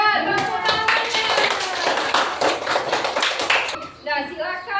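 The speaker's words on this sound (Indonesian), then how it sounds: "Ya, tepuk tangannya." A group of children clapping their hands together in a classroom, a dense run of claps for several seconds that ends abruptly, with voices chattering and calling over it.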